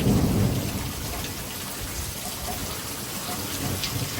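Heavy downpour in a severe thunderstorm with gusty winds, a dense steady roar of rain with a deep rumble of thunder near the start, close and loud throughout.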